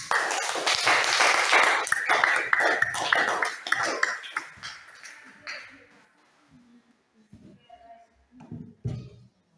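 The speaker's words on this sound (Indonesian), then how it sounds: "Tepuk tangan" Classroom applause from students after a poem reading about their teacher, a burst of many hands clapping at once that thins into scattered claps and fades, followed by a few quiet voices and small taps.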